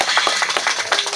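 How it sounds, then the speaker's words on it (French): Brief applause from a small audience at a French family gathering, several hands clapping in an irregular patter for about a second, close and moderately loud. "Encore une fois, applaudissez très très fort"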